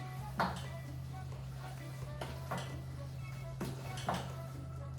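Marinara sauce stirred in a pot for spaghetti: a few clinking scrapes of a utensil against the pot, roughly every second or two, over a steady low kitchen hum.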